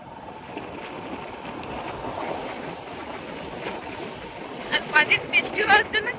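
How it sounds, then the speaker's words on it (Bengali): A steady, low motorbike engine drone runs throughout in a Sundarban village, with a few brief voices rising near the end. "বাইক স্টার্ট করেছে"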